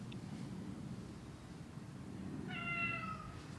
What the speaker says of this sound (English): some high-quality meows and yelps